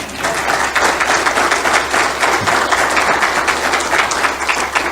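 Congregation applauding during a church sermon, a steady, loud wash of clapping from a large crowd that holds without a break for about five seconds.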